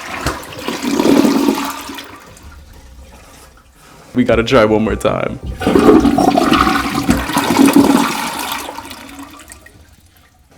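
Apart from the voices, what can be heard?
hotel toilet flushing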